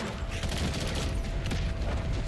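Steady rattling fire from the BAL 27 rifle in Modern Warfare III, a rapid stream of shots blending with game effects, loud and continuous with no speech.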